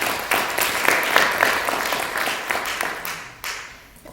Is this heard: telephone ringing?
no